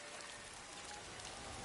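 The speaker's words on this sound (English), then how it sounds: "it immediately starts to rain" Steady rain falls in a video game set in Mongol territory, a soft continuous hiss of drops spread evenly and fairly quiet, with no voices over it.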